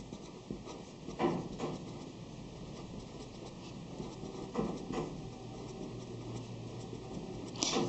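Formulas handwritten on paper in a quiet room: faint scratchy pen strokes come in short bursts with small taps, soft and close, and no talking.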